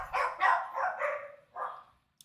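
A dog lets out a quick run of four or five sharp barks, fairly close and clear, then one more after a short pause before going quiet.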